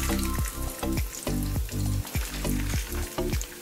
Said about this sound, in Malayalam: ജസ്റ്റ് നെയ്യിൽ വറുത്തെടുക്കുവാണ് കേട്ടോ.